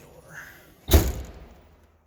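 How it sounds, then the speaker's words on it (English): A 1960 Nash Metropolitan car door shuts with a single solid thump close by, after a moment of quiet movement, the sound fading quickly afterward. "I'll shut the door."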